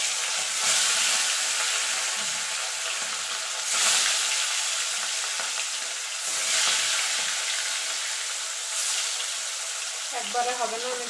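Fish slide one at a time into hot oil in a home kitchen, a loud broad sizzle that swells with each new piece and then holds steady. A bubbling spatter sounds near the end.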